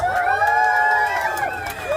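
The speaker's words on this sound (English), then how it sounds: "Can I get a big cheer for Jose, please?" A tram-tour crowd at the Universal Studios backlot lets out a sustained whooping cheer for their driver, with voices rising and falling in overlapping tones over a continuous rumble for about two seconds.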